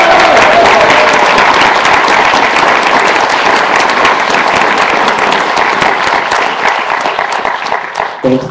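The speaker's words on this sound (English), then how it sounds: "please give a huge round of applause to all the volunteers who worked so hard to make this a great" A large audience at a horror-writing awards ceremony in Atlanta bursts into loud, sustained applause for the event volunteers, dense clapping and crowd noise holding for about eight seconds before tapering off.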